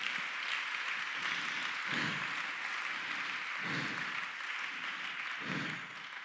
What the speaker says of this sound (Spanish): Dale un aplauso a la gloria de Él.